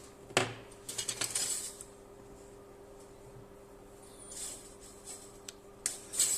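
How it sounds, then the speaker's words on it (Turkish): Resistance wire for a homemade car heater built from scrap materials is snipped with a sharp click, followed by a few small metallic clinks and light handling in a quiet room. "Hemen buradan kestim rezistans telimi."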